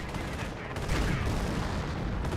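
Strafing gunfire in the Company of Heroes WWII strategy game, a dense, continuous burst of rattling fire lasting throughout, fairly loud and steady, with a slight swell partway through and no speech over it.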